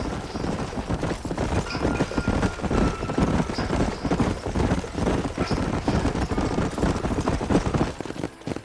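Horses galloping in the Red Dead Redemption video game, a steady, rapid clip-clop of hooves pounding continuously and fairly close, with no talking.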